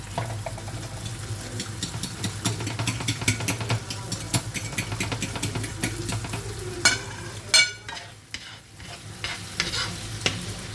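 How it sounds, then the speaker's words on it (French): Tomatoes cook in a frying pan and are crushed, giving steady sizzling with repeated scraping and stirring clatter, close and fairly loud, with a few sharper knocks of utensil on pan near the end. "On laisse bien cuire les tomates. On les écrase."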